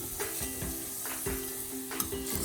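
Onions cooking in a meat sauce for baked stuffed shells, with a low sizzle and a few soft stirring scrapes at a steady pace, close by, no voices.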